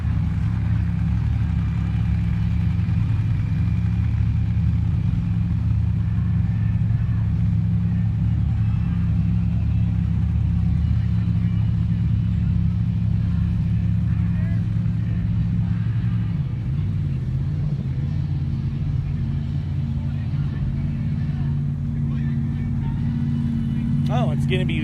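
A drag racing car engine, a Jeep at a season-opener Top Eliminator qualifying event, idles with a steady, loud low rumble throughout. There is a brief dip partway through and a rise near the end, and an announcer talks over it.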